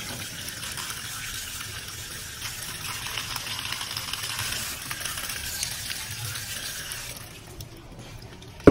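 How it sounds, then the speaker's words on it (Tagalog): Marinated maya-maya fish being washed under a running kitchen tap, a continuous soft splashing water hiss that fades out near the end, no talking. "Hugasan natin ulit siya ng maayos."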